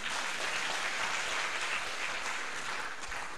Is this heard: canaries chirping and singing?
no